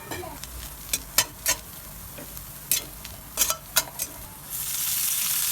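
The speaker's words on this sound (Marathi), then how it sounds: "भाजून घ्यायचा आधी कांदा कांदा भाजून घ्यायचा" Onion roasting in a pan for a lentil sandago dish, a faint low sizzle broken by several sharp spatula clicks and scrapes, then a louder hiss swelling near the end.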